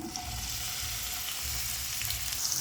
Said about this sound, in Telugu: సో మనం ఇప్పుడు కట్ చేసిన ఉల్లిపాయలు, కరివేపాకు కూడా ఈ ఆయిల్లోకి వేసుకుందాం.